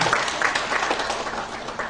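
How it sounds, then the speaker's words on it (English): An audience applauds at an award ceremony at Hotel Taj in Chandigarh, with a short burst of dense, close clapping. "You can clap for that."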